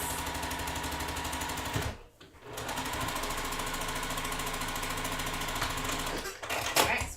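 A sewing machine stitches quilt blocks together for a block-of-the-month quilt, running steadily and close with a brief pause near the two-second mark and another near the end.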